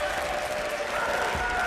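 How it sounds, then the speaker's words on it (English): Davidson basketball fans stand and applaud late in a lopsided game, a steady broad wash of clapping filling the arena throughout, loud and continuous with no distinct voices rising above it. "the Davidson fans will stand and applaud with 69 seconds to play in regulation"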